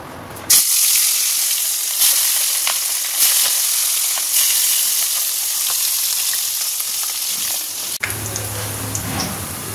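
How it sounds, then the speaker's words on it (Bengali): Hilsa fish frying in hot oil in a wok, a steady close sizzle and crackle with occasional sharper pops and spits throughout. "মাছগুলো সব এখানে ভাজা হয়ে গেছে"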